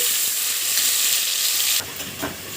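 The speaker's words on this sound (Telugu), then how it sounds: "ఇప్పుడు ఒక రెండు ఆనియన్స్ని ఈ విధంగా పేస్ట్ చేసుకోండి యానీని మంచి కలర్ వచ్చే వరకు వేగనివ్వాలి" Two onions frying in a pan for a hotel-style Nellore lamb trotters dish, a loud steady sizzle that drops off sharply after a couple of seconds, followed by faint stirring clinks.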